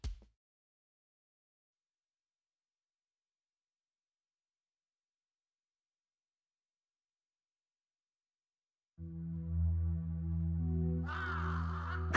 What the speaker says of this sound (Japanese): ただのカラスの鳴き声だから